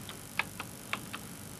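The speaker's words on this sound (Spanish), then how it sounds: "Ahora tecleo la orden dir" Four or five light, crisp keystrokes tap on a computer keyboard in an uneven rhythm, close but quiet, over a faint steady background hiss with no talking.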